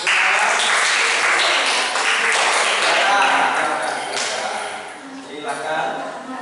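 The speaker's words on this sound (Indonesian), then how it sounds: "Mulai tepuk tangan Bu Ati." Applause in a classroom teaching session, a loud burst of clapping that rises quickly and then tapers unevenly.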